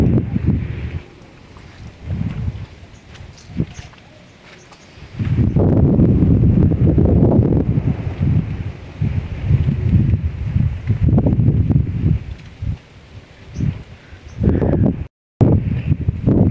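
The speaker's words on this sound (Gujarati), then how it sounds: "જોઈ લો પવન છોટા હજી ચાલુ છે અને બધું ભાંગી તોડી વીખી નાખ્યું બધું." Strong wind blows across a cotton farm field wrecked by heavy rain, buffeting the microphone in loud, roaring gusts that rise and fall, with calmer rustling stretches between and no talk.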